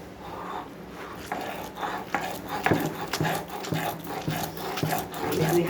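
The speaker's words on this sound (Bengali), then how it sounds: "এরকম দুধের সর শিলনোড়াটা দিয়ে বাটবো।" Milk cream is ground on a stone shil-nora. The stone scrapes and knocks in a steady rhythm of soft rubbing strokes with regular thuds, close and moderately loud.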